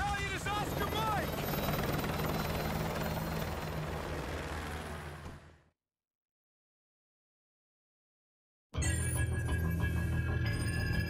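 A helicopter in the video game Call of Duty Modern Warfare 2 roars with dense rotor noise for several seconds, fades into silence, then returns loud and abrupt, mixed with game sound effects.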